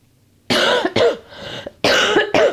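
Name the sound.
woman coughing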